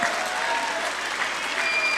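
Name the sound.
audience applause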